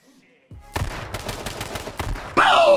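Rapid gunfire from the H1Z1 King of the Kill battle royale game, a dense run of loud shots with some bursts close together, ending in a louder noisy burst of game sound.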